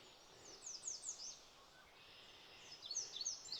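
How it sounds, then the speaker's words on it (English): Small birds chirp and trill by a creek along the Pine Creek Rail Trail, high thin calls in two clusters over a steady soft wash of flowing water, faint and distant with no voices. "All I can hear is the birds."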